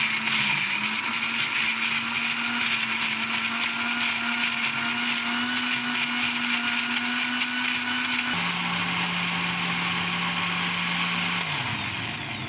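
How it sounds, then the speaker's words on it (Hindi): An electric grinder blends ginger garlic paste in a kitchen with a steady, loud motor whine that holds one pitch for about eight seconds, then drops lower and winds down near the end, with no talking. "अब इसको मैं पीस लूँगी अच्छी तरीके से।"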